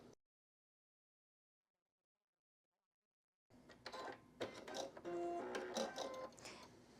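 A sewing machine stitches binding onto a quilted wallhanging, starting after a long stretch of silence and running as a busy, mid-loud mechanical whir with rapid clicks for the final few seconds.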